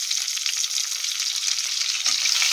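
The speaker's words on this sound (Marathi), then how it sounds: "आता यामध्ये धुतलेले गाजर टाकते।" Washed carrots go into a pan of frying corn biryani and set off a steady, close, loud sizzle of hot oil that runs unbroken throughout, with a brief stirring clatter near the end.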